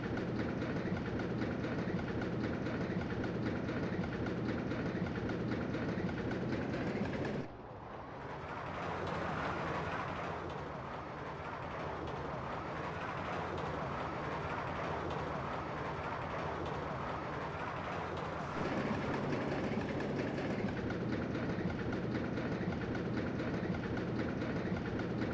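A RollerCoaster Tycoon roller coaster on a test ride, rumbling and clattering along its track for about 25 seconds, the sound briefly dropping and thinning partway through before returning to full strength near the end.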